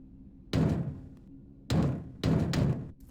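Someone in a video game pounding on a door, three heavy bursts of knocking separated by short pauses, each a quick cluster of loud thuds, with no talk.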